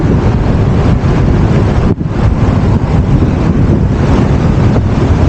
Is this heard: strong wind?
yes